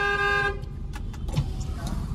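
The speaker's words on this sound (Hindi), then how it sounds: "हॉर्न" A car horn honks once in a steady tone in single-road traffic during a driving lesson, then the sound cuts off, leaving road noise and some faint clatter.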